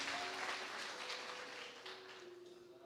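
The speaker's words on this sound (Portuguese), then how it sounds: "Aplaude Jesus, por favor." A church congregation claps along steadily at a worship service, a dense, fairly faint patter of applause with a sustained musical tone underneath and no talk.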